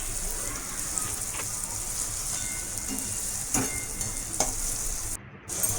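Egg bhurji sizzling in a pan with turmeric as it is stirred, giving a steady close frying hiss with a few sharp scraping strokes of the spatula and no talk.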